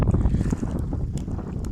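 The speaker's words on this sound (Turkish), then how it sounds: "Hava biraz rüzgarlı" Strong gusty wind buffets the microphone with a heavy low rumble, continuous and loud throughout, with no voices, while carp fishing.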